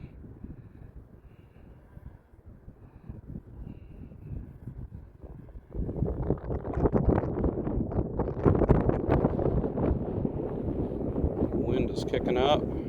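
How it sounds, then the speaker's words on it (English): Wind buffets an outdoor microphone while an Autel Evo Lite+ drone is flown, a steady low rumble that grows noticeably louder and rougher partway through and then stays strong. "Wind is kicking up."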